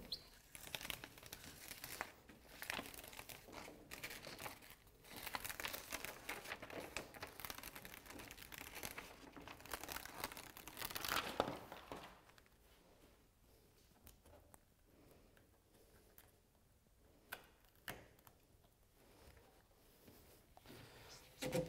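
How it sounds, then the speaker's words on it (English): Peel-and-stick flashing tape unrolled and pressed onto a window rough opening over housewrap, giving a close, steady crinkling and tearing sound for about twelve seconds before it falls quieter, with sporadic crackles after. "After I pre-cut this tape to length, I actually re-rolled it so that I'd be able to roll it out easily."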